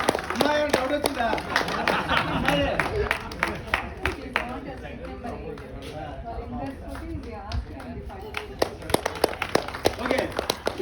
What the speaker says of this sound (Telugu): number 1, please give a good clap to him